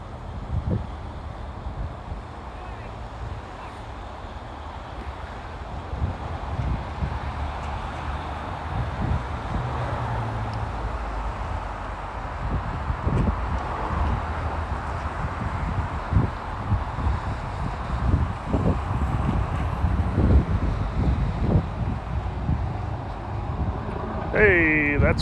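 Gusty wind buffets the microphone outdoors during a winter drone flight over Wadsworth, Ohio, a steady rumbling roar with rustling surges that builds slightly toward the end.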